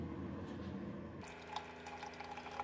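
Coffee maker brewing a 12-ounce cycle of water mixed with Urnex cleaner, a soft bubbling gurgle that shifts to a trickling, dripping pour partway through, quiet and close with no talking.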